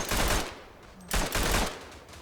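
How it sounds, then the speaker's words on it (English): Machine gun bursts in the Verdun video game, a weapon firing at a fast rate: two loud, dense rapid-fire bursts separated by a brief lull, up close with no talking. "they've adjusted the firing rate of this gun"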